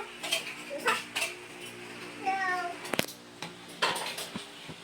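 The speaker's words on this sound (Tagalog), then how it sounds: "may pusa dyan" Several short, faint meows from a cat, scattered among light clattering and quiet household noise.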